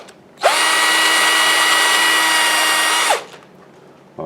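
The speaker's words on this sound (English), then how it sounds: "so I'm just going to drill a hole" Power drill boring a hole in carved wood, a single steady high whine lasting close to three seconds that spins up sharply and winds down, set against a quiet room.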